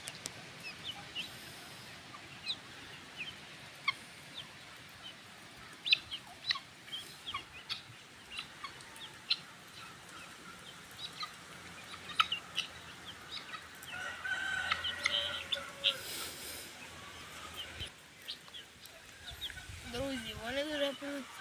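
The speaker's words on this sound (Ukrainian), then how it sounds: "а зараз просто без мого голосу, так як пасуться цесарки" Guinea fowl grazing outdoors in a garden, giving scattered short clucks and chattering calls at a moderate distance, with quiet rustling between them and a denser burst of calls toward the end.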